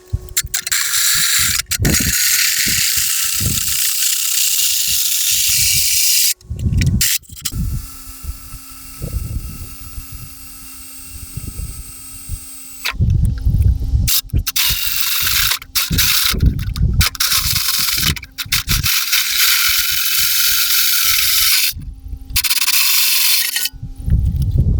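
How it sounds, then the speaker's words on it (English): A power drill with a 3-inch hole saw grinds steadily into a metal bash guard, harsh and whining, in long bursts broken by short pauses and clunks. "I'm going to use this 3-inch to drill out the bash guard."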